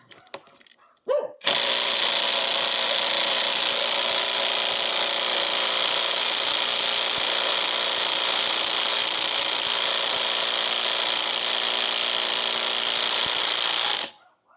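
A cordless impact wrench, one of several tested brands including Makita and Einhell, loosening a nut: after a short rattle it fires a continuous loud, buzzy hammering burst for about twelve seconds, then stops abruptly.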